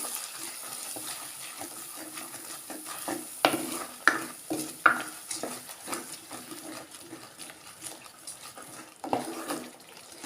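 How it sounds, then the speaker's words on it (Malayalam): Ground masala paste for a tamarind-and-chilli Kerala fish curry frying in oil, a low sizzle under repeated sharp scrapes and taps of a spoon stirring against the pan, close and moderately quiet. "ഈ അരപ്പ് എണ്ണയിൽ നന്നായിട്ട് മൂപ്പിച്ചെടുക്കണം"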